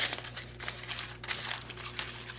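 A crumpled sheet of aluminium foil is opened back out by hand, giving soft irregular crinkles and crackles up close, fainter and sparser than crushing it.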